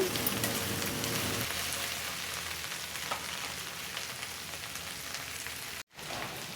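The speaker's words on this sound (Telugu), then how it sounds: "ఇలా గంటతో తిప్పుకుంటూ ఫ్రై చేసుకోవాలి" Okra pieces fry steadily in a pan while being stirred with a ladle, a dense, continuous close sizzle with soft scraping, broken by a brief dropout near the end.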